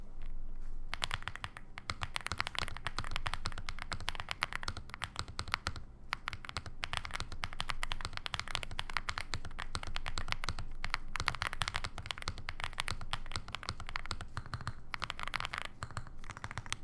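Rapid, continuous typing on a Meletrix Zoom 75 mechanical keyboard, dense close-up clacks and taps at an even pace throughout, with no talking.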